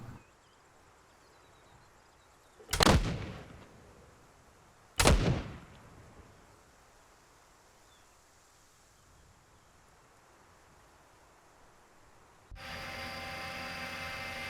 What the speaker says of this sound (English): I can hear the planes cooking off from here